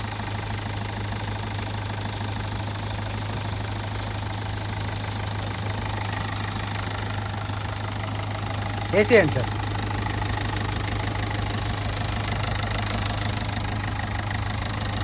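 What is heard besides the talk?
Toyota Etios Cross 1.4 diesel engine idling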